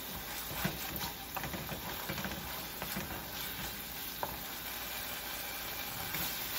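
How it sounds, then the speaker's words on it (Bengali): Salt, chilli, cumin and coriander powders fry with tomato in a pan, a continuous close sizzle broken by scraping stirs and small pops, with no voices. "একসঙ্গে মশলাটা ভাজা হয়ে যাবে।"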